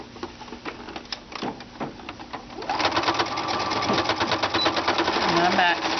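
A sewing machine stitches across the bottom of a fabric key ring, its rapid rhythmic needle clatter starting about halfway through and running steadily to the end, loud and close, after quieter handling noises and a voice.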